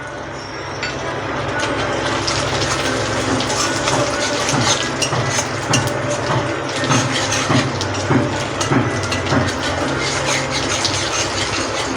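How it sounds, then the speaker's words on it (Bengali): Nigella seeds hitting hot oil for tempering, giving a dense, continuous sizzle and crackle that holds steady and loud throughout, with no voices over it. "তেলটা আমার গরম হয়ে গেছে, আমি এবার 1 চামচ কালো জিরে ফোড়ন দিয়ে দেব।"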